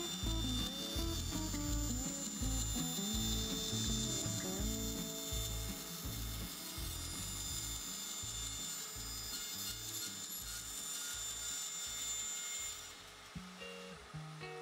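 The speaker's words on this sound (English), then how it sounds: "And now I'll just use a bandsaw and cut the profile of the guitar on the back and the top." Bandsaw cutting the outline of an acoustic guitar's back and top from wood, a continuous loud rasping grind with a rhythmic low chatter that runs steadily and eases off near the end.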